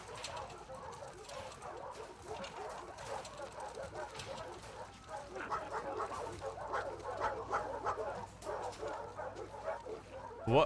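Several dogs in the WLF kennel of The Last of Us Part 2 barking and yipping in a busy, overlapping chorus, with chirpy bird-like calls mixed in and a louder burst at the very end.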